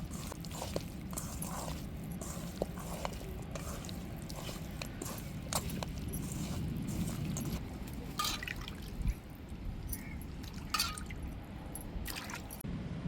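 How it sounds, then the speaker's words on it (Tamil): Chicken pieces are rubbed and rinsed by hand in turmeric water, giving a close, continuous run of wet squelches, splashes and drips with no talk. "மஞ்சள் பொடியை போட்டு நல்லா விரவி நம்ம நல்லா அலசி எடுத்துக்கிடுவோம்"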